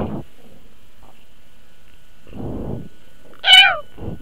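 A single short, rising and falling cat meow from the Roblox Animal Simulator game sounds close and clear, between low rumbling bursts of other sound.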